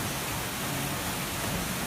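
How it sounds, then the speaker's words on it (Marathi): Steady downpour with gusting wind in Dombivli, a continuous broad hiss of rain and wind with no pauses, moderately loud. "वारा सुटलेला आहे आणि पाऊस सुरू झालेला आहे"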